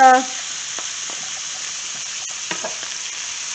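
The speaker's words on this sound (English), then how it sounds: "spinach for 2 minutes also, so we'll just keep moving it around here." Spinach sizzles in a frying pan while being stirred around, a soft steady crackle with a few light scraping strokes after a brief spoken word at the start.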